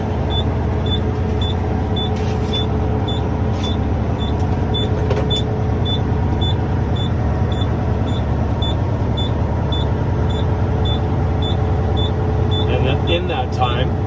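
Truck engine idling steadily while air brake pressure builds, a loud constant low rumble with a regular repeating high beep of the low air alarm, and faint clicks near the end.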